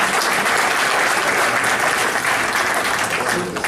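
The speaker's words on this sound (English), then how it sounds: "They clap about the cricket field." A political gathering audience breaks into loud, continuous applause over a cricket field announcement for the town of South Windsor, a thick, even roar of many hands clapping close and full throughout.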